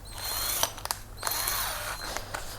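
A DCK KDJZ1202 12V cordless drill driving a spade bit at speed 2, a high motor whine that runs in bursts with brief stops and clicks between them, close and fairly quiet, with no speech.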